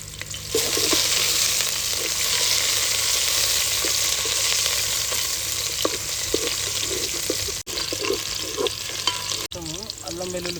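Sliced onions and a bay leaf sizzle steadily in hot oil for a prawns fry, a loud, continuous frying hiss with occasional stirring scrapes, heard close up and without talk.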